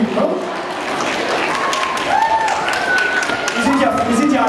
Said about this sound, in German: Und mal kleiner Applaus, ihr Lieben